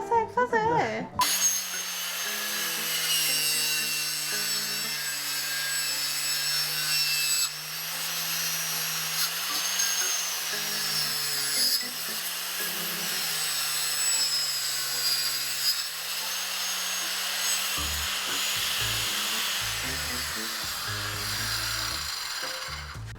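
A wooden kitchen cabinet table for a motorhome build being cut with a power saw, a steady loud whining cut that holds for most of the stretch and shifts pitch as the blade bites, with no talk.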